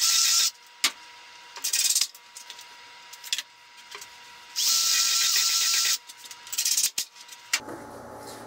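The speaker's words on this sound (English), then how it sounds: "drill a couple screws in it." A power drill fitted with a countersink pilot bit drives screws into a wooden and metal fold-down wall desk, running in several separate bursts of whirring with short pauses and clicks between them.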